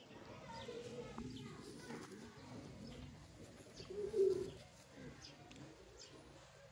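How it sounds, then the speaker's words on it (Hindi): Soft coos from chapray pigeons rise briefly from a quiet, hissy background, with faint distant chatter and bird chirps around them. "परवाज़ें रखने वाले चपड़े कबूतर"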